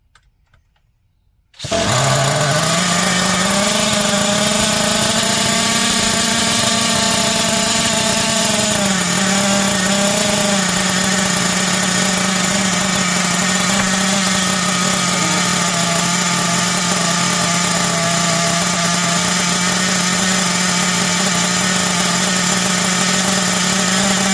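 A small 0.21 three-port nitro engine in a Hobao Hyper 7 RC car starts abruptly after brief quiet and then runs continuously, a loud high-pitched buzzing drone with slight shifts in revs.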